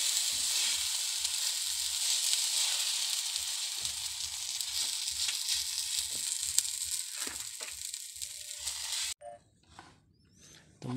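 Banana slices frying with coconut milk in a lightly oiled pan, a steady bright sizzle with small crackles and pops, close and continuous before cutting off abruptly near the end.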